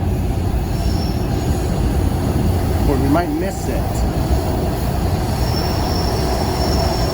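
A WMATA Orange Line 6000 Series metro train rumbles steadily throughout, with a brief high wheel squeal midway and a voice speaking quietly underneath.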